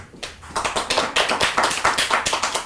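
Several people clapping hands in a room, a quick uneven run of sharp, close claps that swells and continues without talk.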